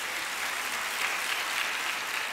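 Loud, sustained applause from a large crowd of women at a regional convention in Latur, a thick unbroken roar of clapping that holds steady throughout.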